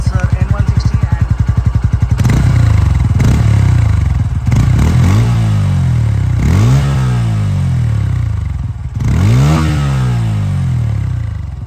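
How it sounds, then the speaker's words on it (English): A Bajaj Pulsar N150 motorcycle starts with a quick rattling crank, then settles into a loud, close single-cylinder idle broken by several sharp throttle blips that rise and fall. "So the moment I turn on the motorcycle, you can hear the exhaust note"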